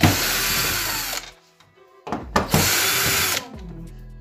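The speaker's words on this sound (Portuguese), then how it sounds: "No meu caso, eu vou retirar com a parafusadeira." A cordless power screwdriver backs Phillips screws out of a TV stand foot, giving two loud, close whirring bursts separated by a brief quiet pause with a few light clicks.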